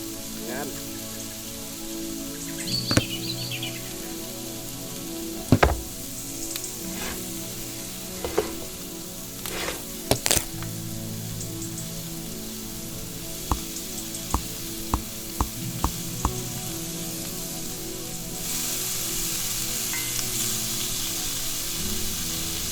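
Garlic frying in a pan for bozena shiro, a steady close sizzle with scattered sharp pops and clicks throughout, with no talking.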